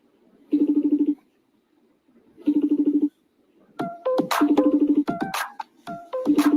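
A phone rings in two short repeating trill bursts separated by a pause, then keeps ringing while chirpy electronic tones overlap it in a busier final stretch.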